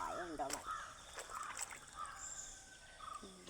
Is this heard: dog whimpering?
no